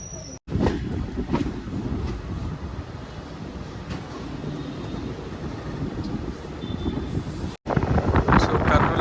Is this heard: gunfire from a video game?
no